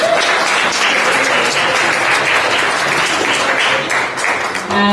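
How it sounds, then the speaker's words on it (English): Attendees at a community forum give sustained, full applause for a project team, a broad wash of clapping that thins slightly near the end as a voice begins. "So can we give them a round of applause as well?"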